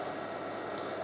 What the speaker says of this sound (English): Fans running, everything for the inverters for the pond.